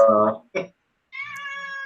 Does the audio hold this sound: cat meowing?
yes